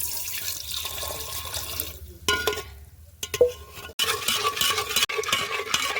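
Soaked sugar water poured into a pot holding roasted mango pulp, a watery splashing and trickling that stops and restarts in short bursts, close by and fairly quiet with a few knocks between pours.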